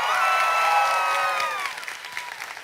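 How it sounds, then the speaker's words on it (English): An audience at an RTX 2016 convention Q&A panel applauds, a dense burst of clapping that starts loud and thins out toward the end, with faint cheering mixed in. "Round of applause."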